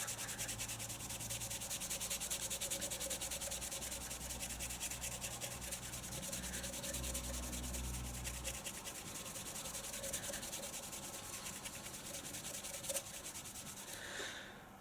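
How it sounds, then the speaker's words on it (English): A coarse weave abrasive pad rubs steadily over rust on a Virago 250 motorcycle, a continuous close scratchy scrubbing that keeps up a dense, even rhythm throughout with no talking. "a coarse weave is what you want to use. I'm just going to rub that around"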